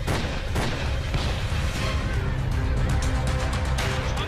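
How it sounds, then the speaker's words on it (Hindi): Dense, continuous gunfire and bomb blasts at a polling booth in Cooch Behar during the 2021 Bengal election, loud and chaotic throughout, with no clear pauses. "गोलियों की तड़तड़ाहट,"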